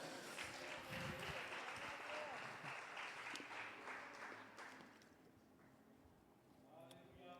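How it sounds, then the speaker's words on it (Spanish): A church congregation clapping for the Lord during a sermon, a broad sustained round of applause that slowly fades over several seconds. "Dele palmas al Señor."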